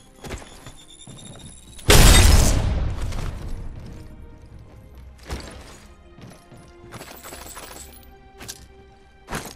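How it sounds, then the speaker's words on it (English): An Arc Star grenade detonating in the video game Apex Legends: one loud, sharp blast that rings out and decays over a second or more, followed by quieter clattering and scattered game sounds. "Throwing Arc Star."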